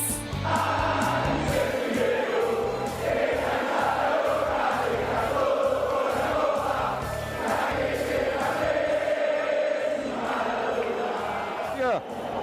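Football crowd roaring in delight, a dense and sustained wall of cheering and chanting that carries steadily throughout.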